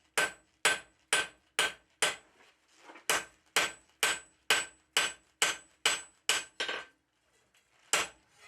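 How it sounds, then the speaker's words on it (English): Steel toasting fork handle hammered on an anvil: a steady run of sharp, ringing metallic blows, about one or two per second, close and loud, with a brief pause midway and a final strike after a gap. "working on a curved edge on the far side of the anvil to blend that transition back up into"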